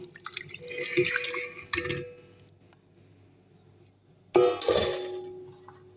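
Homemade coconut oil poured through a sieve, with a few quick trickling and dripping bursts separated by quiet pauses, close and fairly soft, ending in a brighter splash of liquid.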